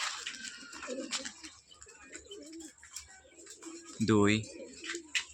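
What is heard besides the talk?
pigeons cooing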